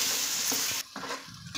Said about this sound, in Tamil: ஒரு 3 வெங்காயம் அதையும் சேர்த்துக்கறேன் சேர்த்து நல்லா வந்து வதக்கிக்கலாம்